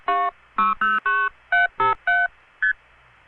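Eight touch-tone telephone dialing beeps ring out clearly through an early-1980s phone line as a number is called back, each tone short and crisp and separated by brief gaps.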